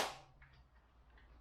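Single shot from an all-metal airsoft M4 rifle: one sharp, close crack at the very start that decays quickly into a quiet room tone.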